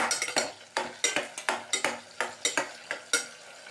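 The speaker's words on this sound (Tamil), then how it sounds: "இப்போ சாம்பார் வெங்காயம் போட்டு வதக்கின்னு இருக்கோம் இல்லையா" Sambar shallots and green chillies being sautéed in a pan, with a spoon clinking and scraping in a quick, steady stirring rhythm over a faint sizzle, close and clear with no talking.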